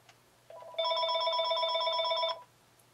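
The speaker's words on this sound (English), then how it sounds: "that was a phone call" A telephone rings once in a workshop setting, a bright electronic bell tone lasting about two seconds, loud and close above a faint low hum.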